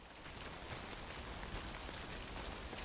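Steady rain falling in the video game Death Stranding, a dense, even hiss of drops on surfaces that holds unbroken for a few seconds with no voices.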